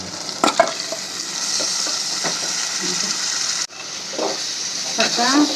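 Chicken pieces fry on high flame in a tomato gravy for gongura chicken, a steady loud sizzle with scraping stirs and clinks of the spoon against the pan, up close.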